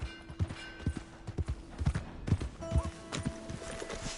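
Rhythmic clip-clop of horse hooves trotting at an even pace in the video game Red Dead Redemption 2, with synthetic game-style tones and faint effects layered underneath.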